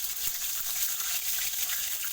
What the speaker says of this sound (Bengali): তেলটা গরম হয়ে গেলে কাঁচা লঙ্কা